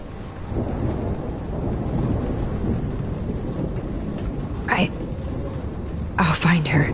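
Video game thunderstorm: a dense, continuous roar of rain and low rumbling, close and loud, with short bursts of voices cutting in near the end.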